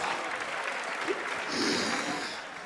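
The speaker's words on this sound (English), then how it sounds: "A round of applause." An audience at the 2024 national science and maths quiz grand finale applauds steadily, a dense, continuous wash of clapping that swells slightly midway before easing off.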